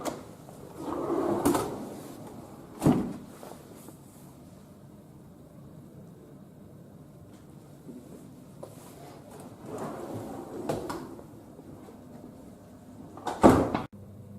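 Wooden drawers are opened and closed in a barge maritime museum, with four separate sliding thumps and scrapes spread over the stretch, close by, with quiet room noise between them.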